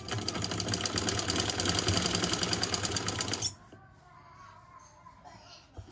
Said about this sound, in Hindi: इसको रख कर नीचे फैब्रिक को हम ऊपर सीधी सिलाई लगा लेंगे